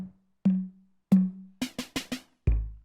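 Electric guitar through a Fulltone Choral Flange chorus pedal with a spacey, liquid tone: two sustained low notes ring out, then a quick run of four bright plucked notes and a final low chord, played alone.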